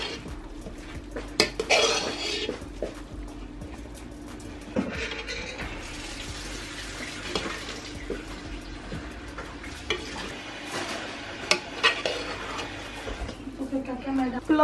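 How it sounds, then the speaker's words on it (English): Biryani rice being folded together with fried onions in a pot, with scraping and clinking of a utensil against the pot, intermittent knocks, and people talking over it. "now we're gonna mix it all. More folding motions."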